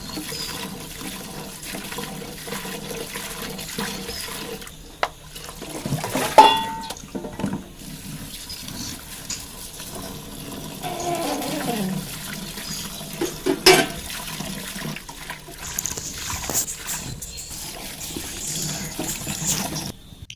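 Chopped spinach in a sieve is rinsed in a bowl under running water, giving a steady trickling splash. Occasional sloshes and clinks of handling rise above the flow.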